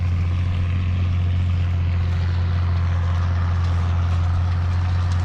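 A steady, loud engine drone with a deep low rumble, continuous throughout, from an International 1256 tractor moldboard plowing a field nearby.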